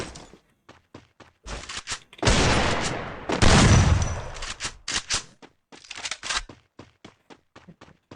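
Gunfire in the mobile battle royale game Free Fire: bursts of rapid shots, some sustained and loud, others short isolated cracks spread across the clip.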